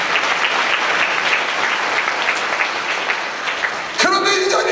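A church congregation at a deaf mission service claps in a loud, steady wave of applause for about four seconds before a voice cuts in over the fading claps.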